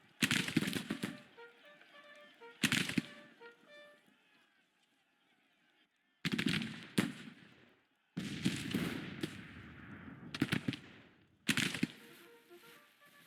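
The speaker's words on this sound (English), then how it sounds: "Let's get into firing range since we're getting shot at" Rifle fire from a Grand Tactician Civil War battle, likely Mississippi rifles, comes in several loud bursts separated by quieter gaps, with a faint musical tone running underneath.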